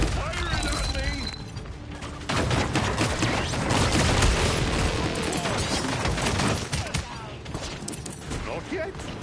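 Busy, loud gunfire from the video game Paladins, with rapid shots and mechanical clatter layered over game effects and a voice talking throughout.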